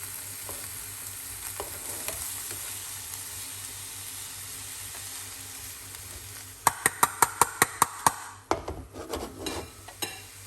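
Vegetables sautéing in a pan, a low sizzle that gives way to a quick run of sharp rhythmic taps and then scraping stirs, close and moderately loud, no speech.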